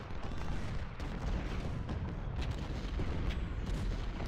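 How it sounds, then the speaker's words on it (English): Rebel artillery in the Ultimate General: Civil War game, a dense rumbling barrage of distant booms and cannon shots rolling continuously and overlapping, with no talking. "It's a lot of rebel artillery, that's for sure."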